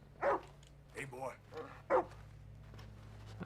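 A dog in the Red Dead Redemption 2 video game gives three short barks and yips spaced about a second apart, moderately close over a faint low hum, followed by softer whimpering noises.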